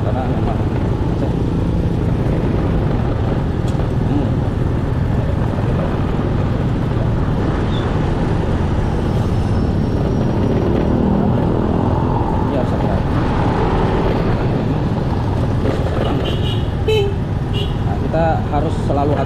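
Heavy stop-and-go street traffic near Poris, with dense engine rumble from cars and motorbikes and occasional horn toots, continuous and close, with a person talking over it.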